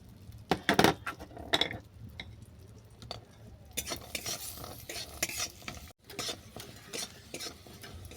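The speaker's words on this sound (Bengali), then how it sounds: "আমি আবারও অল্প করে বাটার দিলাম। এতে কাজু কিশমিশটা ভেজে নেব।" Cashews and raisins fry in a little butter in a pan, a soft steady sizzle broken by repeated scrapes and clinks of a spoon stirring against the metal, close and alone with no talk.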